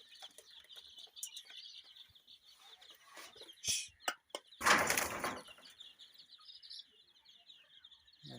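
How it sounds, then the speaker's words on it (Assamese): Sonali chickens and chicks cluck and chirp at a poultry farm, intermittent calls near and moderately loud, with a brief burst of flapping wings midway. "সোণালী পোৱালি, সোণালী মুৰ্গী"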